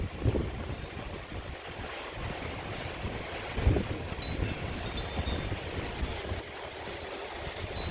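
Strong outdoor wind roars steadily into the microphone with dense low rumbling buffeting and gusts, loud and continuous throughout, with no speech.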